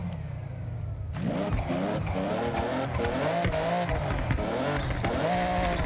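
A tuned BMW with over 1,000 horsepower revs hard in a racing video game, its engine rising and falling in loud, repeated sweeps after a brief quieter start.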